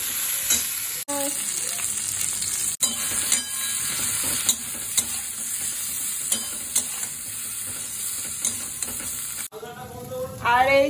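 Teasel gourd and raw banana pieces fry in a pan without turmeric, a steady loud sizzle running throughout with spatula stirring scrapes and brief clinks, broken by a couple of short cuts.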